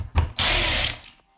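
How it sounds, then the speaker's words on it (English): A power drill whirs up for about half a second while removing a light fixture in a room, preceded by a brief knock. The whine is close and loud, then spins down. "everything is really easier with the drill"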